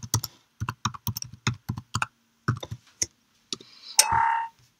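Keys tapped on a Mac computer keyboard while a password is entered: a burst of about a dozen close, crisp clicks in an uneven rhythm, ending in a short rising electronic tone.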